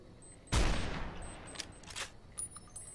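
A single loud burst of gunfire erupts close up from a weapon in the video game Fallout: New Vegas, with a sharp attack that tails off into a decaying rumble and a few fainter shots afterward.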